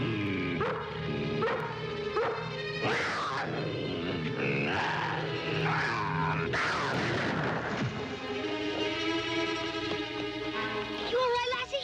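A dog gives a series of sharp barks, yips and whimpers close by, mixed with dramatic orchestral music from a Lassie episode, The Fawn Patrol.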